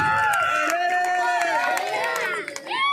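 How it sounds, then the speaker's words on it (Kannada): A crowd cheers and shouts at an Ugadi festival music program in a Vijayanagara district village, a loud, dense burst of raised voices and whoops with faint clapping mixed in. "ಜೋರಾದ ಚಪ್ಪಾಳೆ ಬರಲಿ"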